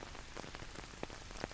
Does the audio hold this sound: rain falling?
yes